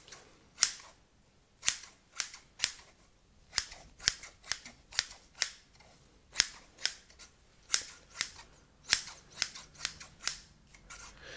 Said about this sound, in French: est-ce que tu peux me dire combien de coups de ciseaux je fais?